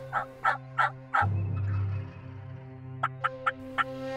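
Wild turkey gobbler calling in spring hunting country, one loud rattling gobble near the middle, preceded and followed by several short sharp yelps or clucks, fairly close and clear against a quiet outdoor background.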